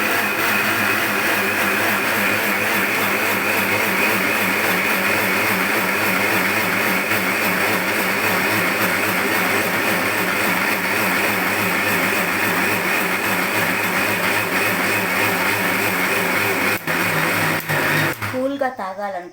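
A kitchen mixer blends a shake with a steady, loud motor whir that runs unbroken for most of the stretch, then stops with a few clunks and rattles near the end.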